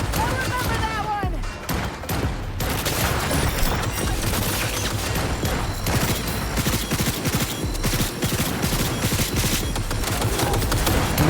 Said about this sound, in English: And I'm getting shot from behind.